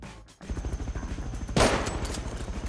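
Rapid automatic gunfire in the survival video game Rust during a raid, fired in a fast rhythmic burst of close, loud shots with a sharper, louder volley about halfway through.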